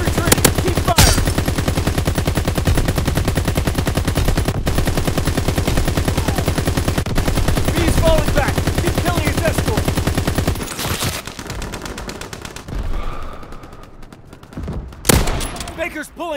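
Call of Duty WWII battle audio with sustained, loud machine gun fire that rattles continuously for about ten seconds before thinning out to scattered shots and a distant boom.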